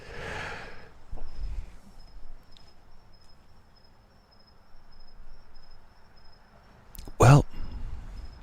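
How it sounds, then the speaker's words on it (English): A faint, steady cricket chirp continues outdoors at Siesta Key throughout, with a brief spoken word, a breathy sound and a sharp thump near the end. "I'm just vibing to the crickets out here."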